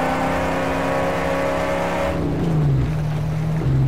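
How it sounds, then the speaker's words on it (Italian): Q6 car engine in Mad Max strains under full load, a loud steady drone with a held tone that drops to a lower pitch partway through, continuous throughout. "Vedete che sforzo che ha la macchina. Senti il Q6 a pieno carico."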